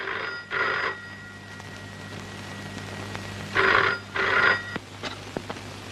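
A telephone rings with an incoming call in two clear double bursts, one near the start and one later, each loud and close over a steady low hum, with no voices in between.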